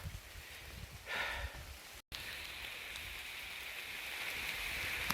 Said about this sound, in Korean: 비가 엄청 쏴집니다